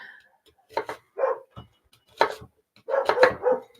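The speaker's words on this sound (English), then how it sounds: "Her bark carries." A pet dog barks indoors in a home kitchen, several loud close yelps and barks in short irregular bursts separated by quiet gaps.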